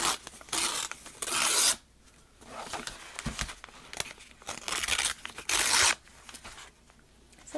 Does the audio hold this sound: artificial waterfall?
no